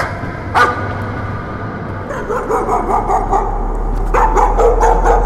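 Dogs bark in the horror video game Layers of Fear. One sharp bark comes first, then a run of repeated barks and yips that grows louder over a low, rising rumble.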